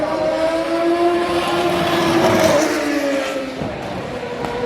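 A Benetton B192 Formula 1 car running at the Goodwood Festival of Speed, its high engine note rising and falling as it passes, loud and close, then fading with some crowd ambience.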